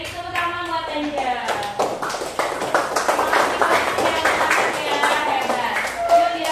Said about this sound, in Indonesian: Beri tepuk tangan buat Anda.